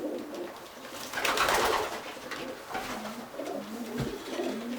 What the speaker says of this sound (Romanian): Așa cum ți-am zis de la Claudiu Roman, un porumbel cu o energie deosebită și cu o musculatură senzațională.